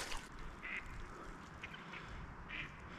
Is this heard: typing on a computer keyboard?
no